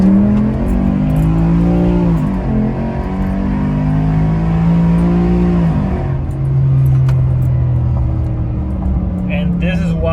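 Tuned Ford F150 Raptor truck with a 5.0 engine accelerating hard: a loud, close engine roar climbing in pitch through several automatic upshifts, each marked by a brief dip before it rises again.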